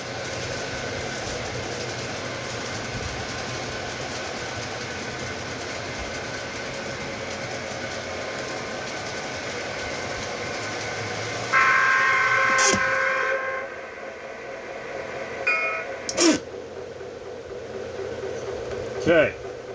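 A model train locomotive with QSI sound circles the track with a steady mechanical rumble, then a couple of short whistle or horn blasts sound before it goes quieter near the end.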